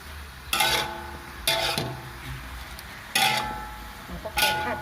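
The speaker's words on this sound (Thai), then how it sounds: "ต้องคอยคนไว้นะคะ ไม่งั้นมันจะไหม้ค่ะ" Mixed vegetables stir-fried in water in a pan, a utensil scraping and clattering against the metal in four close, separate bursts over a low background.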